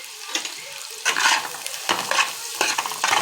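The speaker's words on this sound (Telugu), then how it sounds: "ఇప్పుడు ముందుగా కట్ చేసి పెట్టుకున్న పచ్చిమిర్చి ఆనియన్స్ కరివేపాకు వేసేసుకోవాలి వేసి హై ఫ్లేమ్లో ఫ్రై చేసుకోవాలి" Green chillies, onions and curry leaves frying in hot oil over high flame for egg rice, loud sizzling bursts as the pan is stirred, with scraping surges.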